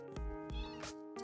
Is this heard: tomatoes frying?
no